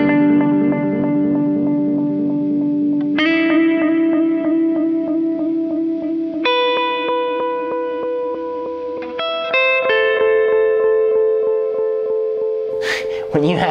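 Horizon Devices Flux Echo pedal with delay raised, tone lowered and reverb at noon, shaping sustained guitar chords that change several times, each ringing out with echoing repeats and a wash of reverb, loud and up close.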